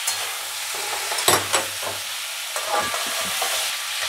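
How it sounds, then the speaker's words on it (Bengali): Grated radish with salt and turmeric is stirred in a hot pan, giving a steady sizzle broken by scraping strokes of the spatula, close and fairly loud. "এবার খুব ভালো করে নাড়াচাড়া করে ঢাকা দেব"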